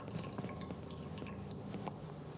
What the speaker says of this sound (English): So I'm gonna pour it right into my sauce.